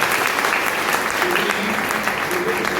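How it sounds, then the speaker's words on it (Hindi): Loud, dense applause from a large audience at a parenting talk fills the whole moment, steady clapping without a break. "जोरदार तालियां।"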